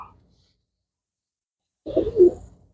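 A pigeon gives a short, soft cooing call nearby after a stretch of near silence, a single low throaty burst lasting about half a second.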